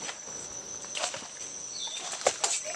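Rapid, fluttering wingbeats in short bursts close by from a caught bird flapping in the hand, over a steady high-pitched hiss of insects in a forest.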